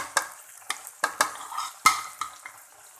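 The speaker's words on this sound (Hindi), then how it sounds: "प्याज हमारे ब्राउन हो चुके हैं। हम इसमें लहसुन अदरक का पेस्ट डालेंगे।" Garlic ginger paste stirred into browned onions in a hot pan, a steady soft sizzle broken by irregular scraping clinks of a spoon against the metal, close and moderately quiet, with no talking.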